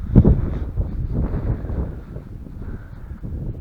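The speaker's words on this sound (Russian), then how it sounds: "Ну, ветер потихонечку стихает" Strong gusts at a lakeside fishing spot near Achadovo buffet the microphone in a loud, low, rumbling roar that swells and eases without pause, with no speech.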